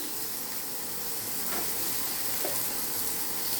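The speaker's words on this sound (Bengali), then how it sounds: "দেখুন বন্ধুরা, এইভাবে মাছটা রোস্ট হচ্ছে" Fish roasts in a pan with only a little oil, making a steady, dense sizzle that stays even and close throughout. Occasional faint pops rise slightly above it, and no one speaks.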